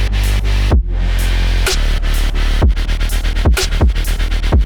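Bass music drop made in Serum 2, with a loud layered bass synth playing alongside punchy drums, snare hits and fast rhythmic chops driving throughout.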